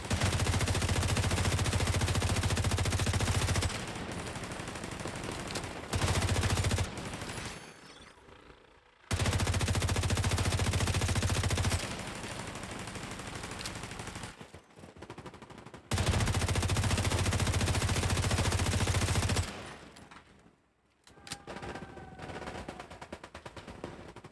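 Rapid automatic gunfire from a video game shooter, loud bursts lasting several seconds each, separated by short quieter gaps with softer shots and game effects.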